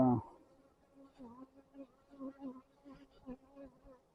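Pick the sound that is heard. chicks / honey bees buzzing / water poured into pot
honey bees buzzing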